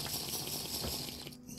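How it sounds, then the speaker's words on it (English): Steady rushing, pouring water in a video game as a character drinks, a continuous gush that cuts off near the end, with no talking. "We really should have a drink of water."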